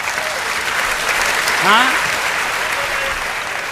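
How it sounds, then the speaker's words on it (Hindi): Audience applause at a live comedy show fills the hall, a steady dense clatter of clapping that swells briefly midway, with a single spoken word over it. "ताली बजाइए, एनर्जी मिलती है"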